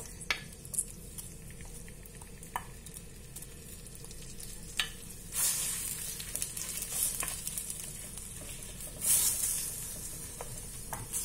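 Onions sautéing in olive oil in a pan for kefta tagine: a soft continuous sizzle with occasional stirring scrapes and a couple of louder hissing bursts, close by.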